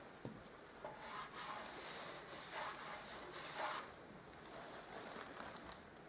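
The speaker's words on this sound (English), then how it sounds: "we'll give it a wipe down with a damp cloth" Damp cloth rubbed across a freshly sanded wall to remove dust, soft close swishing strokes in a continuous rhythm with a few louder sweeps, no talking.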